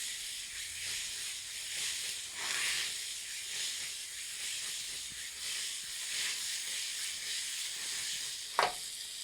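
Sweet potatoes and seafood stew sizzle in a pot outdoors, with a steady hiss and crackle throughout, gentle swells in intensity, and a single sharp clink near the end.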